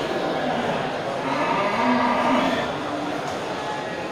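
Simmental breeding cows low with a drawn-out moo in the middle of a steady, noisy farm background, fairly near, with voices faint underneath.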